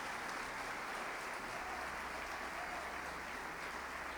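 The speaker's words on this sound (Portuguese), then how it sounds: "agradecer esse Pai com um forte aplauso" Church congregation giving a strong round of applause, a steady wash of many hands clapping at even loudness with no voices on top.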